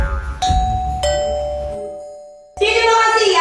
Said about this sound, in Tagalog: Dapat pala hindi ako nagpakabit ang doorbell na yan eh.